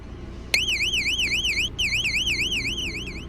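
A home security alarm going off inside a house at night, a loud piercing electronic tone warbling rapidly up and down, cut briefly once before resuming steadily and close.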